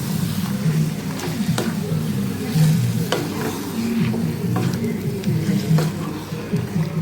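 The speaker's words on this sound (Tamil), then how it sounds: "இப்போ நல்லா கலந்து விட்டுக்கலாம்" Hariyali chicken gravy is stirred in a pan, with repeated scraping strokes over a continuous close sizzle and no talking.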